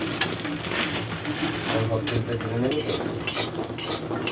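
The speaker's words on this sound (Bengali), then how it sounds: "বড়িটা একটু ভেজে নিই ওই তেলটাতেই।" Lentil dumplings (bori) frying in oil in a pan while shukto is being cooked, a steady sizzle with stirring and utensil clinks under a continuous background.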